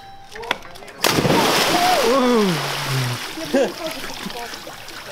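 A jump into outdoor water during a swim, with a sharp splash impact near the start followed by sloshing and churning water, while excited voices shout and talk over it.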